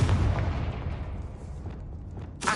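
Booming blast from the Confringo fire spell in the video game Hogwarts Legacy, a loud low explosion at the start rolling off into a fading rumble, then a sharp burst at the end.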